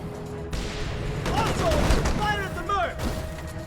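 Bursts of video game gunfire aimed at a mercenary rattle in rapid fusillades over a rumbling battle bed, mixed with whooshing effects and a voice speaking.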